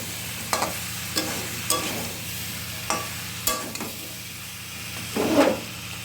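Drumstick stems and potatoes are stir-fried in a pan: a steady, close sizzle runs underneath while a spatula scrapes and knocks in a regular rhythm, roughly one stroke every half second, with a louder scrape near the end.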